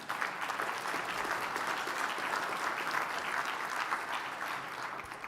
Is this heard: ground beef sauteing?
no